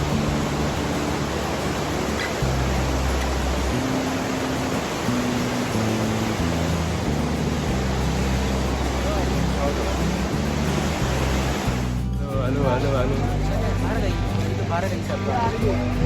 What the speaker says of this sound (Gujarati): નદી તો ખાલી પાણીનો જ આટલો અવાજ છે